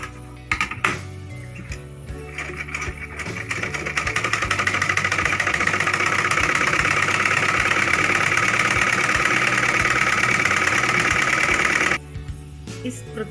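A sewing machine runs a double line of stitching along a 2-inch strip added to a high-neck blouse, building to a steady, loud mechanical whir for several seconds before stopping abruptly.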